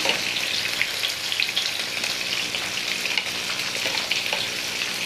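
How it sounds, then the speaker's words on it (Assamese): Katla fish pieces frying in hot oil on a gas stove, a continuous close sizzle with fine crackles and occasional pops, steady in loudness for several seconds with no voices. "প্ৰথমতে মাছখিনি এনেকৈ ভাজি ল'ম।"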